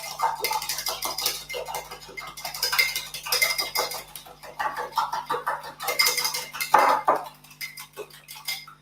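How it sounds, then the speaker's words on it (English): A small whisk beats ingredients for homemade mince pies in a bowl, giving a quick, continuous run of close metallic clinks and scraping with a brief louder knock near the end and no talk. "I'm just going to whisk it up with a little whisk."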